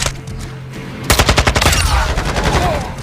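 Automatic rifle in Modern Warfare 2 fires a sustained rapid burst of shots, loud and close, beginning about a second in after a quieter stretch and running continuously to the end.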